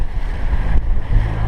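A sailboat motoring into the wind five miles off Montserrat in the Caribbean, loud steady rush of wind buffeting the microphone over a low engine and water drone, with a couple of deeper gusty thumps.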